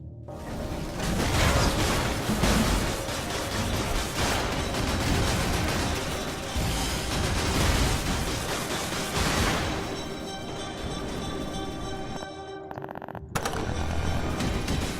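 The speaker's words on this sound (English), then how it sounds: "Gas cannon's kind of like mines, but much better." Gas cannon explosions in the video game Cryptark, dense bursts of booms and rapid gunfire packed tightly together, loud and continuous with a brief lull near the end before resuming.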